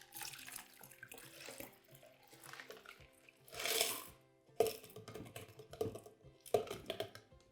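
Water poured from one container into another, with gurgling splashes and trickles in uneven bursts, quiet and close, plus a few small clinks between pours.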